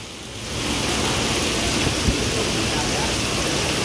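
Heavy rain pours steadily in a dense, hissing roar, close and loud throughout, with a faint low thump partway through.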